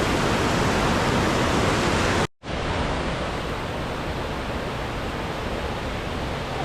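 A mountain waterfall pours in a loud, dense, unbroken rush of falling water nearby, briefly cut to silence for an instant before resuming at full strength.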